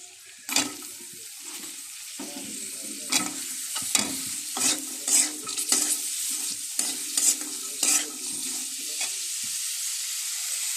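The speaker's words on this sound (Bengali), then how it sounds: "এখন আমি কেটে রাখা সবজিগুলো দিয়ে দেব।" Chopped winter vegetables tossed and stirred in a frying pan with turmeric, a constant sizzle broken by repeated scraping spatula strokes, close and moderately loud.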